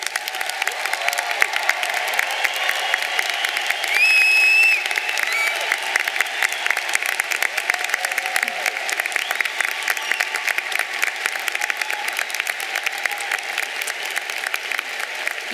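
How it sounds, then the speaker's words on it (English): Sustained applause from a commencement audience honoring graduates receiving academic honors at a 2016 university ceremony, steady and dense clapping filling the hall throughout with a brief tonal whistle partway through. "Will those receiving honors please stand and give these students a round of applause?"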